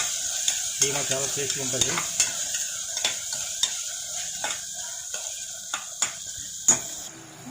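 Cloves, cardamom and cinnamon sizzling in hot oil in a pan for mutton kheema, a thin steady hiss broken by sharp spoon taps and stirring scrapes, with a voice talking briefly.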